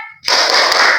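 A classroom of students strikes a single loud group clap together after a short lead-in tone, followed by a dense, sustained burst of hand noise.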